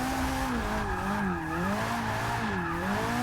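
A Ferrari supercar drift car in Forza 6, running on stock street tires, revs high and wavers in pitch while its tires squeal steadily through a continuous, loud slide.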